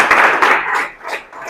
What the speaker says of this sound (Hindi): एक बार ताली इसके लिए भी।